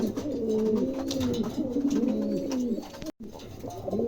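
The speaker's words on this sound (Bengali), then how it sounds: "চমৎকার এক জোড়া কবুতর" A pair of pigeons coos close by in a showroom, giving repeated rolling low coos one after another with a short gap near the end.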